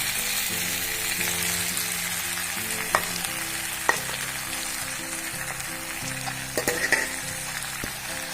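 Banana flower frying in a pan with pigeon meat and potatoes, a steady close sizzle with occasional stirring clinks and scrapes throughout, no talking.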